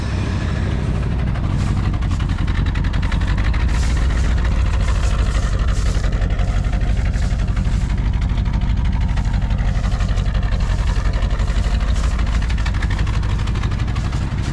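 A worn engine in a 1978 AMC Jeep Wagoneer idles steadily and close by, a constant low rumble with a fast, even chugging beat throughout.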